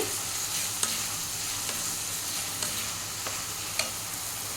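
Chopped onions fry with spices for a mutton curry, a dense steady sizzle filling the air while a spoon stirs, with a few faint clinks against the pan, close and continuous.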